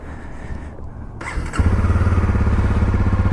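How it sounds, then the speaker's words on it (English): A Honda 250 Rally motorcycle engine fires up after a brief starter whine, then settles into a loud, steady, throbbing idle close by. "I figured if I'm riding a motorcycle, especially something cool like this 250 Rally"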